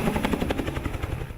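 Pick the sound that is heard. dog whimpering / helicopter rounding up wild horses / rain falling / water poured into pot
helicopter rounding up wild horses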